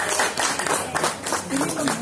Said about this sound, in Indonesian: Silakan tepuk tangan bersama.